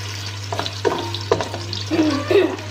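Cinnamon sticks and onions fry in a pan for kadhi pakora, a steady close sizzle broken by several scraping stirs over a constant low hum, with no voices.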